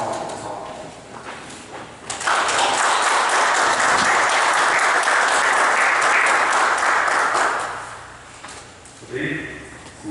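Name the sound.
applause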